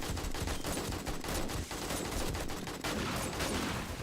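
Rapid, sustained gunfire rattles from 7 Days to Die, a dense machine-gun fusillade of steady repeated shots that fills the whole stretch at moderate level with no voice over it.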